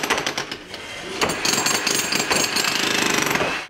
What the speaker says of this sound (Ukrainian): наразі робітники демонтують стару підлогу